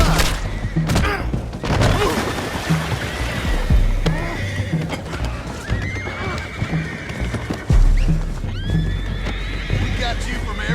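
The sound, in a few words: horses neighing in a video game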